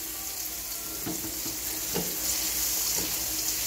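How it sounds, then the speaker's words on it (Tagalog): Whole chili peppers and onion sautéing in a hot pan with oil, a steady close sizzle and hiss, with a few soft stirring clatters from a utensil. "igisa na rin natin ang sili na hindi in-slice, then yung sibuyas"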